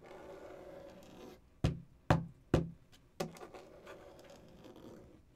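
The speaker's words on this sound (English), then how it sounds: "you're hearing this knock, knock, knock with scratching" Four sharp knocks, the second through fourth in quick succession and the last after a short gap, cut through a soft, scratchy rustling bed on a film soundtrack. The hits are loud against a quiet background.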